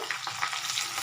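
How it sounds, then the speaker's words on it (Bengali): Onions sizzle and crackle steadily in a hot pan, a close, continuous frying hiss with small pops and no voices. "একটু ভাজা ভাজা করে নেব পেঁয়াজটা"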